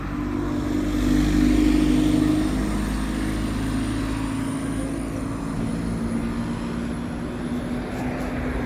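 A bus pulls away at Penkridge, its engine rumble loud at first around the second mark, then easing into a steady low drone with broadband road and wind noise as it recedes.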